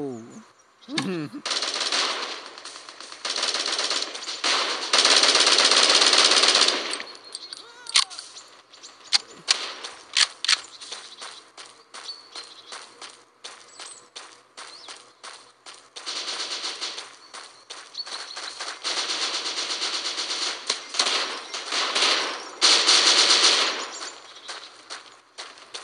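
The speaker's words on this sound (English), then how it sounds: "that shotgun is fast" Rapid shotgun fire in Bullet Force comes as dense volleys of sharp, loud shots in several bursts, separated by quieter gaps with scattered clicks and single reports. There is no talking.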